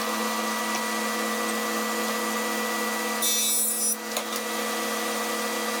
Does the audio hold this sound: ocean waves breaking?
no